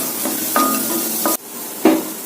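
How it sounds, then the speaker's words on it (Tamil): Vegetables, including curry leaves and grated carrot, stirred in a pan while making ragi adai, with close scraping strokes and a few clinks of the spoon against the pan over a soft sizzle. "கொஞ்சம் நல்லா வசக்கி விட்டுக்கலாம்."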